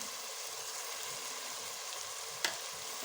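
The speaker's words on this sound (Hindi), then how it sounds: "लहसुन अदरक हमारा फ्राई हो गया" Garlic and ginger frying in a pan give off a soft, steady sizzle that holds evenly throughout, broken by a single sharp click near the end.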